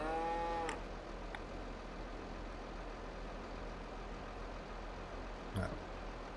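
Cow in the Farming Simulator 22 video game on the France map, giving one moo near the start over a steady low engine-like hum, with a faint second call near the end.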